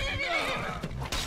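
A horse in the video game Skyrim neighs loudly in a single whinny, followed by a couple of brief sharp sounds.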